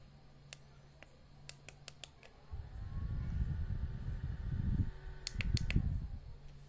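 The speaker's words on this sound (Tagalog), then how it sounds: "At ito naman electric fan ko guys." A small low-budget electric fan on a home desk hums steadily, its low whirring swelling and easing in waves, with a few faint clicks and ticks scattered over the drone.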